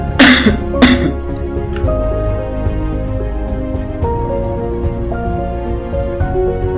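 Two loud, close coughs from a patient with a sore throat and cold at the start, then a steady hum of background tones with a few soft clicks.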